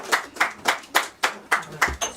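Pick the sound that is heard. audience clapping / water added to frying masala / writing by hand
audience clapping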